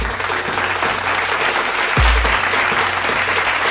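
A crowd applauds a team at a cricket prize distribution ceremony, dense and loud continuous clapping that holds steady throughout, with a brief low thump partway through.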